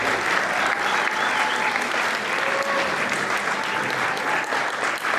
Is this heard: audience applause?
yes